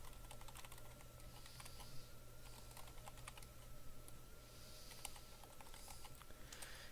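Someone types code on a computer keyboard, a quiet but close run of rapid, irregular key clicks over a low steady background hum, with no talking.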